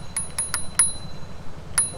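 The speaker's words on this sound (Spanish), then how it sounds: "En el mango izquierdo tenemos el freno, con un timbre por si acaso si alguien se atraviesa en tu camino." A small handlebar bell on an electric scooter rings in quick bright dings, four close together and then one more after a pause, clear and close against a faint background hum.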